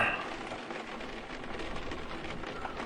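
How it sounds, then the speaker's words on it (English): Steady, moderately soft rain hisses continuously in Unavowed, a wide, even patter with no voices over it. "At least the rain is keeping the crowds away."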